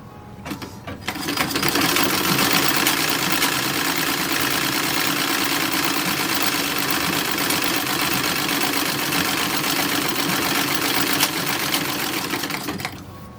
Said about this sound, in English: we're gonna stitch a little waistband on here